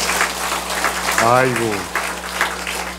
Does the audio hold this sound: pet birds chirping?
no